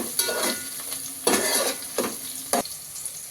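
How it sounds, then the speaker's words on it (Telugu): Green chilies frying in a pan for chicken biryani, with a soft sizzle broken by several louder scraping stirs of a utensil against the pot. "పచ్చిమిర్చి ఇవైతే కొంచెం బాగా బ్రౌన్ కలర్ వచ్చే వరకు ఫ్రై చేయాలి"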